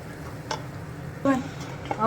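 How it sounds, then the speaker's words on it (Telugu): Onions, tomatoes and chili powder cooking in a pan for a village-style horse gram soup, a quiet continuous sizzle with a few scraping stirs and a brief spoon clink. "కొంచెం కారం వేసుకున్న తర్వాత 1 minute ఫ్రై అవ్వనివ్వండి"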